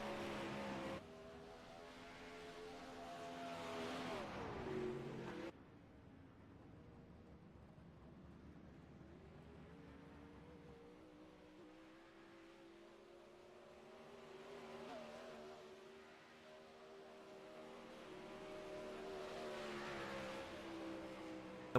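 Sprint cars on the Knoxville dirt oval in iRacing howl with revving engines, rising and falling as they pass nearby, with a sharp cutoff partway through before more distant, droning laps continue.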